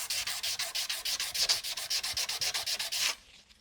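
A chef's knife blade is sanded by hand with quick, even back-and-forth strokes, about twenty rhythmic rasping rubs heard up close before the motion stops.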